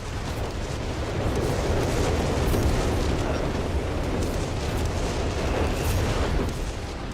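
Dense, continuous rumble of artillery shells bursting in the Company of Heroes 3 strategy game, a steady wash of booms and crackle with no talking.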